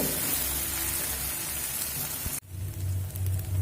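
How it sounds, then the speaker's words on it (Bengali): Half-ground raw peanuts frying in oil with whole-spice tempering for a papaya dish: a loud, steady close sizzle that cuts off abruptly partway, leaving a softer, lower bubbling. "দেখুন কাঁচা বাদাম আমি ফোড়নের সঙ্গে চার থেকে পাঁচ মিনিট মতো ভেজে নিয়েছি"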